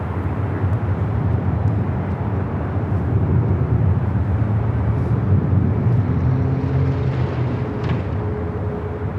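Alaska Airlines Boeing 737-800 on arrival at Los Angeles International Airport, a steady broadband jet roar that holds evenly throughout with a faint engine hum rising near the end, no talk.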